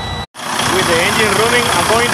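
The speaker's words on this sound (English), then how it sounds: "it's time to start the engine." A Freightliner Cascadia diesel truck with a DD13 or DD15 engine, just fitted with a new radiator, cranks and catches after a brief gap, then runs loud and close with a steady, rough idle.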